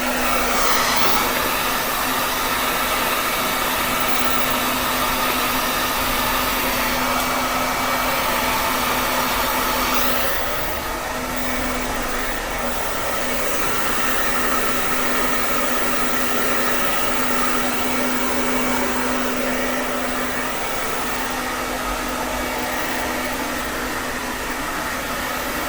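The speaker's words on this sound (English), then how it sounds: "And then you go back in with a hairdryer and smooth that out a wee bit." A vented hair dryer blows a loud, steady airy drone for about 25 seconds while drying mousse out of hair during an early-1980s mall-style haircut, shifting slightly in tone partway through.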